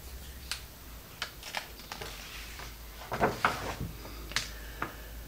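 Quick, uneven clacks of typewriter keys tap out in small bursts, faint and close, with brief pauses between strikes and no speech.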